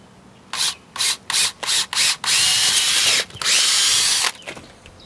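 A power drill whines in several short bursts, then two longer sustained runs, loud and close, with no talking, while installing solar panels.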